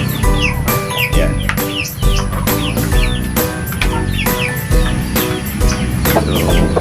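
Chickens in a simple wooden coop cluck and chirp continuously at close range while feeding, with repeated sharp calls and scratching over a steady background of activity, loud and busy throughout.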